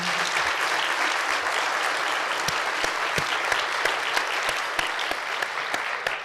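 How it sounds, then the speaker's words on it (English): A room full of people applauding city council members at a State of the City event, dense sustained clapping with a few sharper individual claps standing out near the front. "Give them a round of applause."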